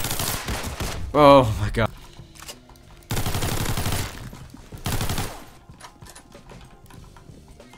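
MAC-10 gunfire in the Roblox game Criminality rattles out in rapid automatic bursts, three loud sprays separated by pauses, with a voice exclaiming briefly in between.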